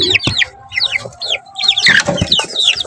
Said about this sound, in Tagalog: Pero mga crossbred na Rhode Island Red po ito.